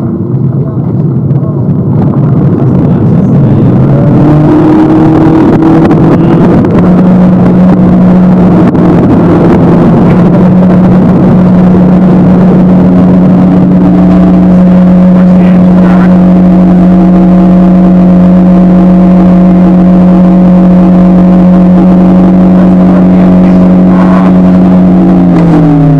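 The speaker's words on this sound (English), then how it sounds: "hopefully you'll hear the car continue to accelerate" A car with hacked control systems accelerates on its own with no pedal input, its engine tone climbing and holding steady with strong harmonics, loud and close inside the cabin under constant road and wind rumble.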